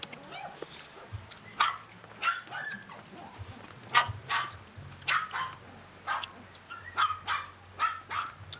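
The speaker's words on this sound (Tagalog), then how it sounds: "Ay, yung aso." A dog barks repeatedly in short, sharp yaps spaced through the clip at moderate distance, over a low background hum with faint voices.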